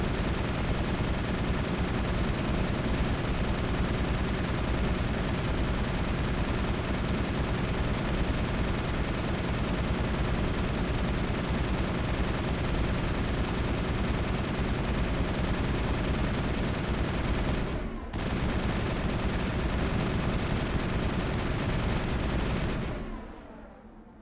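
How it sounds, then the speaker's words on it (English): Sustained weapons fire in the PC game Mass Effect 1 during an enemy encounter, a dense, continuous barrage of shots that runs for about twenty seconds with one brief break near the end, loud and alone with no talk. "Just wanted to see how long that would take via normal weapons fire"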